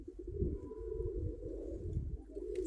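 Pigeons cooing at a dovecote, a low continuous murmur of several birds close by, steady and soft with no talk.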